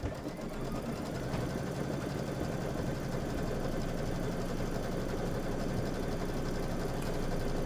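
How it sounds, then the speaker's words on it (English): Computerized embroidery machine stitching a quilted table topper on fabric, a steady, fast mechanical whir with rapid needle chatter and a low motor hum, continuous and close. "I'm just going to go ahead and hit start. Let it do the quilting."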